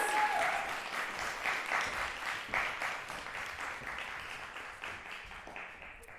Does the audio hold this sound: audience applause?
yes